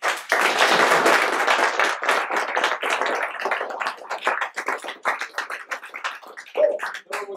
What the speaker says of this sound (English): Janelle did something that deserves a round of applause